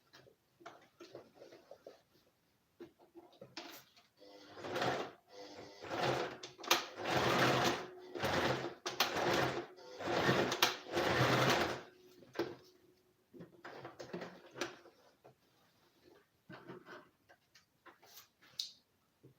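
A sewing machine tacks fabric while pockets are being sewn on, running in several quick bursts that build into a louder, steady stitching run mid-way before tapering to short, lighter runs, with no talking.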